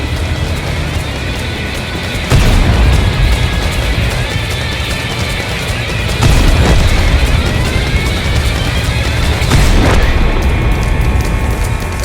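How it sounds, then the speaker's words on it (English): Self-propelled guns firing in World of Tanks, three heavy booms several seconds apart that cut through a loud, steady bed of engine and battle noise. "Both SPGs fire"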